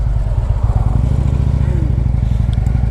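2010 Harley-Davidson Ultra Limited engine rumbling steadily during a test ride, a loud, close, low throbbing drone with faint wind noise throughout.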